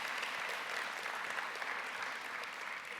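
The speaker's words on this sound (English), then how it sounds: "Let's give them another round of applause for our 3 winners." Steady round of applause from an audience at a university nursing school welcome event honoring award winners, dense and even clapping throughout.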